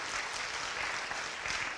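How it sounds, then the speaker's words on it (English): Audience applause at a motivational talk, dense steady clapping from a crowd throughout, moderately distant and fairly faint, with no talk over it. "So give He Ping a big round of applause."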